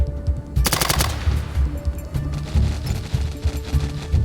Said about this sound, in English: Can you please shoot him?